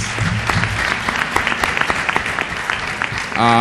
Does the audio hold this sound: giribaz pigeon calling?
no